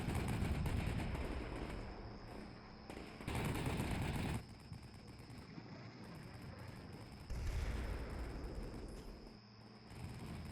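Soldiers' rifles and machine guns firing in the Combat Mission Black Sea wargame, sustained crackling volleys that rise and fall in dense bursts, loud and continuous with no talk.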